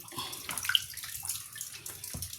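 Water splashes and gurgles as mangoes are washed under a running tap, with irregular close splashing and trickling throughout and no voices.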